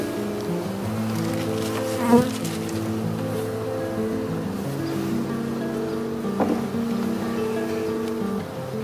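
Honeybees swarm around an opened overwintered hive during a colony split, giving a dense, steady buzzing drone with individual bees passing close, plus light wind noise and a brief bump.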